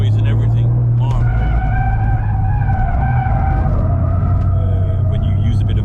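A Toyota GR Yaris rally car slides sideways between cones, its tires squealing in a loud, sustained wail over a deep engine rumble, close and continuous, while people talk over it.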